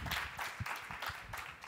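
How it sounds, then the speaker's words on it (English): A seated audience at a health talk gives the presenter a round of applause. The clapping is faint but steady and continuous, slightly distant, with no talking over it. "Let's give him a big round of applause."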